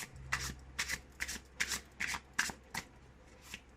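Tarot cards being shuffled by hand, a run of about eight crisp riffling bursts in a fairly steady rhythm, close and moderately loud over a faint low hum, with no talking.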